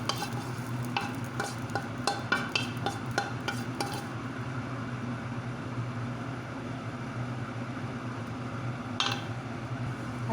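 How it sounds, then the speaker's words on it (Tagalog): A spoon scrapes and clinks against a pot while creamy leftover chicken is transferred into a tray. A cluster of sharp taps comes first, then a steady low simmering hum with one more clink near the end. No one speaks. "Kaya ilalagay na natin siya sa tray. Ayan, ika-transfer na natin siya sa kanyang lalagyan."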